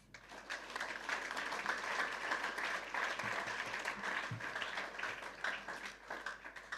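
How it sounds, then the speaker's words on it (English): A student audience at a university gathering applauds in a steady, dense wash of clapping that lasts several seconds without a break. "Clap for yourself."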